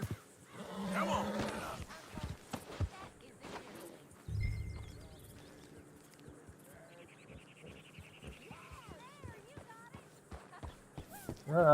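A horse's hooves clip-clop in a Western video game as Arthur rides, a run of soft hoof knocks spread over the scene, mixed with game music and character dialogue.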